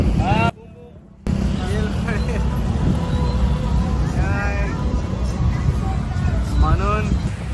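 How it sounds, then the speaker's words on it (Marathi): Dense road traffic in Phuket, Thailand, around New Year: a steady, close roar of engines and vehicles, briefly dipping quieter near the start, with scattered horn-like tones and background voices throughout. "ट्रॅफिक पूर्ण भरलाय"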